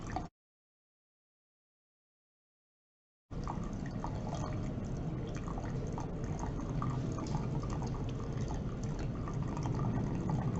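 Distillate of citral and water collecting in a beaker during a steam distillation in a lab, a quiet continuous trickle and drip with faint bubbling after a short silent gap.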